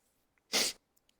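A single short, sharp human sneeze, close and clear against near silence.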